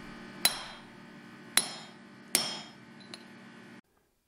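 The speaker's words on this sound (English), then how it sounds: "Then you hammer it home." A hammer drives a grommet home with a setting die, giving three sharp, ringing metallic strikes about a second apart, then a lighter tap before the sound stops.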